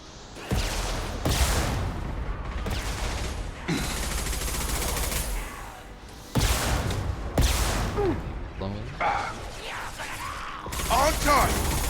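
Suppressive rocket fire and bursts of gunfire break out in a Mass Effect 2 combat scene. Loud blasts and rattling volleys come in irregular bursts, with short gaps between them, and game dialogue is heard under the fire.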